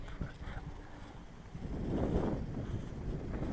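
Gusty wind blows outdoors while an RC thermal glider is flown, rumbling and buffeting across the microphone. It is steady and broadband, swelling stronger in the second half.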